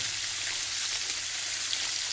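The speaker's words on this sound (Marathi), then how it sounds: "मासे आईने तव्यावर सोडले" Tilapia fish sizzles steadily in a hot pan, a continuous crackling hiss, close and even throughout with no talking.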